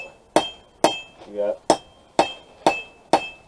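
A hammer forges rebar into a throwing knife on an anvil, six sharp ringing metallic strikes at a steady rhythm, close and loud, with a brief scraping sound between two blows.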